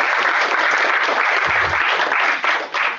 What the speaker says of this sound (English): Could you just give her a big hand of applause?